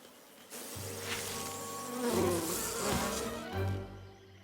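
A steady, dense buzz of many insects, bees droning close by for several seconds with no voices. Cartoon bees in a bayou, from My Little Pony: Friendship is Magic.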